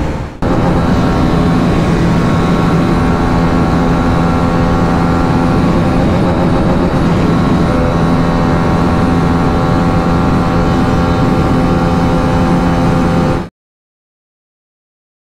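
A Hero Karizma XMR 210 motorcycle running flat out at top speed, its engine a loud, sustained drone with heavy wind rush, steady and close, before cutting off abruptly near the end.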